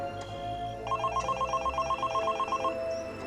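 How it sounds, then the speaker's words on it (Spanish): A mobile phone rings with a repeating electronic trill, clear and moderately loud over a steady background hum, pulsing rapidly for a couple of seconds. "Sonó un celular."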